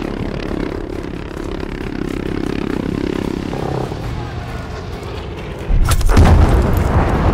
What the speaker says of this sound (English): Requesting a JP-2 airstrike at this position.